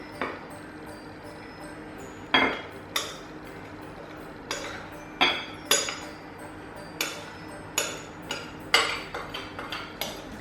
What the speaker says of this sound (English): you're going to add the flour and mix it with the spoon.